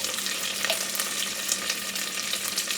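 Cooked pinto beans fry in hot bacon grease with a steady, close crackling sizzle and faint hiss, broken by light spattering pops, over about three seconds with no talking.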